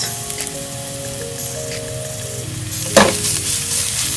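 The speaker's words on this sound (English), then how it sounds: "I'm about to saute my other vegetables, starting with my garlic. That's about 2 teaspoons of oil on medium-high heat." Garlic sautéing in about two teaspoons of oil over medium-high heat, a loud, close, continuous sizzle with a couple of sharper stirring bursts near the end.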